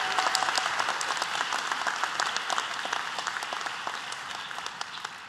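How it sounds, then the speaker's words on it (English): Audience applause fills a white coat ceremony for an osteopathic medicine class, a steady wash of many hands clapping at once, fairly close and even, fading slightly toward the end. "Let's give them a round of applause."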